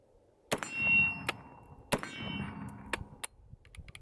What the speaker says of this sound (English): Light primer strike.